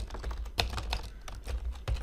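Keys on a computer keyboard clatter in quick irregular bursts, close and moderately loud, with a few sharper strikes standing out and no speech over them.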